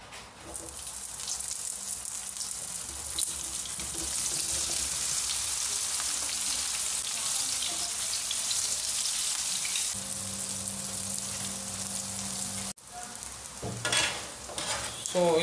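Flour-coated tofu frying in cooking oil, a dense rain-like sizzle that holds steady, then a shift with clattering handling and a short pause before the crackle resumes, close up with no talking.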